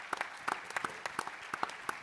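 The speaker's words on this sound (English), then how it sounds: "Let's give a round of applause to Dominic." A small audience claps for Dominic at a sports and tolerance panel, a brief patter of scattered hand claps with a loose, uneven rhythm, fairly close and without talk.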